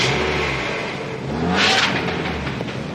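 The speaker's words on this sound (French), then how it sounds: "Chouette bagnole." A car accelerates with a rising, revving engine note that swells to a peak midway and then settles, close and fairly loud with no voices over it.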